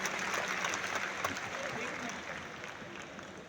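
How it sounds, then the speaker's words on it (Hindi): An audience at a business talk claps loudly on request, a dense, steady patter of hands with a faint murmur underneath that tapers slightly toward the end. "जोरदार ताली बजाओ"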